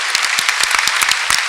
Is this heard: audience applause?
yes